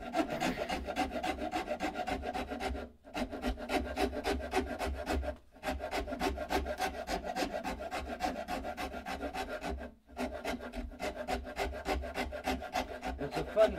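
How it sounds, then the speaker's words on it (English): A coarse number 49 rasp carving a wooden guitar neck, steady rhythmic pushing strokes with a gritty scraping texture, close and even, broken by three short pauses. "I just want to go around with the rasp, and I'm pushing this way, not this way."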